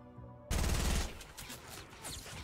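Heavy AK-47 rifle fire in a shooter game: a loud, dense automatic burst erupts after a brief quiet start, then rattles on more softly with scattered trailing shots and no talk.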